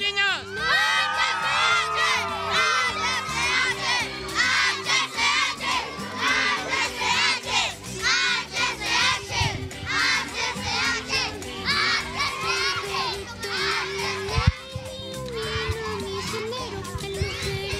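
A crowd of children at a Santa gift-giving event in a city neighborhood shouts together loudly and continuously, with music playing underneath and a voice heard briefly.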